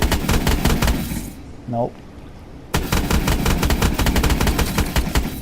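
Rapid automatic EPM3 gunfire in Call of Duty: Advanced Warfare, loud and close, breaks off briefly while someone speaks a short word, then resumes in a sustained burst.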